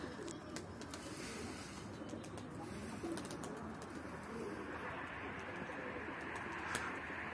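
A pigeon coos softly and repeatedly, low rolling calls over a steady background hiss, with a few brief chirps mixed in.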